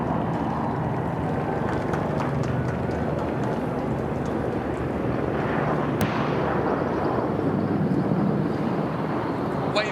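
A first wave of military aircraft flies past over Buckingham Palace, giving a continuous, broad, roaring rumble that holds steady throughout at a moderate distance.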